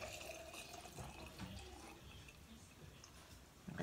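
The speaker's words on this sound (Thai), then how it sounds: "น้ำต้มน้ำดองเฮาก็เทใส่ขวดโหลกาแฟเฮาเลยเนาะ" Cooled garlic pickling brine poured into a coffee jar, a faint steady trickle and splash of liquid at close range, without talking.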